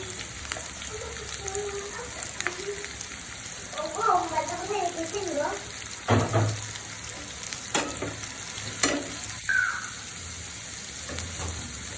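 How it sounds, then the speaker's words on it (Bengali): Bitter gourd fries in hot oil with a constant close sizzle, scattered pops and stirring scrapes. Someone speaks softly in the background early on. "এখন আমি করলাগুলো দিয়ে দিচ্ছি।"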